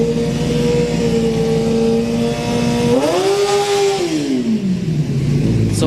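A Kawasaki ZX-10R motorcycle accelerates hard at a street-night drag race at Orlando Speed World with a loud, sustained engine whine. The pitch holds, climbs, then falls through a gear change, all against steady background noise.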